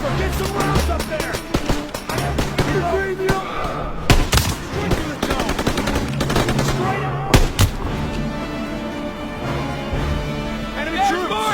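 Battle in Call of Duty WWII in the Hürtgen Forest, with dense rapid gunfire, sharp bursts and loud impacts, while voices shout orders throughout.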